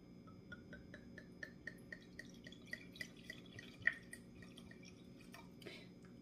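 Wine trickles and drips into a glass, with soft liquid spatters and faint clinks over a low background hum, fairly quiet and close.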